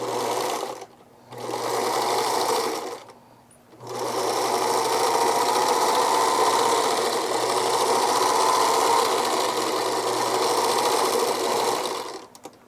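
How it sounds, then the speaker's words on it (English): Sewing machine stitching up the sides of a fabric pouch for a reusable food wrap, a steady close whirring hum in three runs separated by short pauses, the last run long and continuous. "I'm just going to run the sides through my sewing machine to sew them up"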